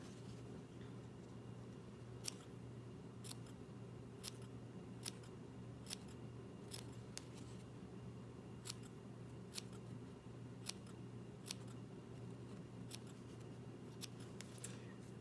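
Small scissors lightly snipping fabric threads on a homemade cloth dust mask, a series of sharp, faint clicks spaced every second or so over a steady low hum, with no talking.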